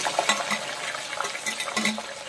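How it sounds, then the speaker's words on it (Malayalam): Onions, garlic and ginger fry in oil in a pan while being stirred. A continuous crackling sizzle is joined by frequent scraping strokes and light clinks of the utensil. "എല്ലാം കിടന്നൊന്നും ഫ്രൈ ആയിട്ട് വരട്ടെ ഈ എണ്ണയിൽ തന്നെ"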